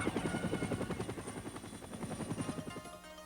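Steady rhythmic thudding of a dust-off ambulance helicopter's rotor blades in the Vietnam War era, loud and continuous throughout with no speech.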